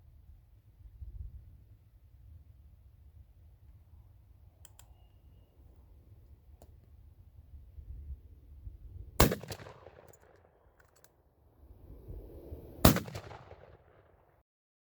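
Two sharp shotgun blasts from a Winchester Model 1901 fired at a target about 50 yards away, the first loud report followed roughly four seconds later by a second, each with a brief decay, over quiet outdoor background.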